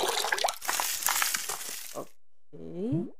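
Watering a plant pot in the video game Mitoza: about two seconds of splashy, crunchy pouring noise, a short pause, then a bright rising chime-like game tone.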